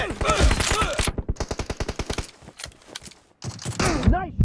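Rapid bursts of automatic gunfire from the PUBG Mobile video game during a team deathmatch, a steady rattling volley of evenly spaced shots followed by a pause and a few more loud bursts, close and dominant.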